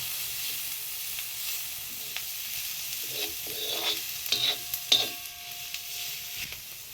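Onion, tomato and red chili powder sizzle in a frying pan as a spoon stirs them, with a soft frying hiss broken by several louder scraping strokes near the middle. No voices.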